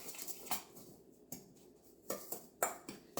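Dijon mustard and mayo being stirred together in a bowl, with soft scrapes and sharp clinks of a utensil against the bowl in an irregular rhythm, close and quiet, with no voices.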